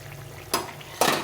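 A spatula breaks up boiled potatoes in a pan of curry, giving two short scraping clacks against the pan over a quiet background.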